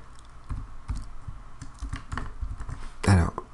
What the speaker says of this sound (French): je tape le texte